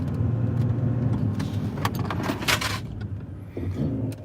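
A used car brakes on a road during a test drive, with rolling road noise, a brief scraping burst midway and a fading rumble as it slows.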